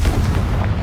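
A Confringo blasting spell explodes in Hogwarts Legacy, a brief, loud, heavy boom with deep rumbling low end filling the whole moment.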